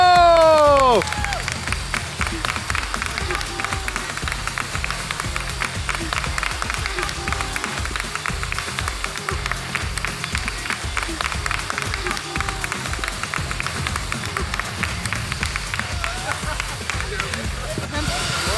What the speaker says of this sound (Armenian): բարձր ծափահարություններ, բրավո, բրավո